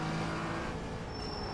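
A GT4 race car in the iRacing sim holds a continuous, moderately loud engine drone with a slight pitch shift as it drives a section of track, no voices.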